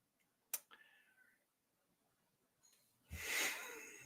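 A cat lets out a short raspy meow-like cry, close and fairly loud after a near-silent stretch, preceded by a few faint clicks.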